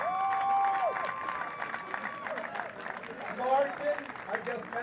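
Crowd applause and cheering at a padel tournament, the APT Cape Town Master round of 32, a broad clapping wash with whistle-like tones and voices mixed in, moderately loud throughout.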